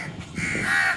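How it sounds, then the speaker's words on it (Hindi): A crow on a rooftop gives a single harsh, drawn-out caw, loud and close, rising over a brief rustle of background noise. "मुझे लगता है कोई कौवा ववा है।"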